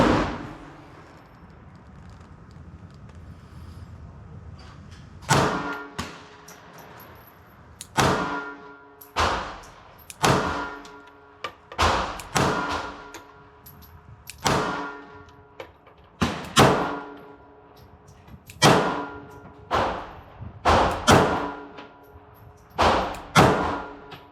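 Smith and Wesson Bodyguard pistol fired left-handed at a target, a dozen sharp gunshots ringing out one after another at a steady, unhurried pace, each a loud crack with a short decaying tail, preceded by a few seconds of quiet room tone.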